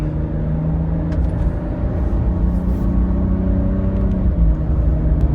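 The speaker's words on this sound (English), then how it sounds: "First acceleration on the highway with the snowmobile trailer." A 2025 Ram RHO pickup with the Hurricane engine accelerates on a highway while towing a snowmobile trailer, a steady loud low engine drone and road rumble holding throughout with no voices.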